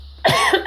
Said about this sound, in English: that I would need to cough now.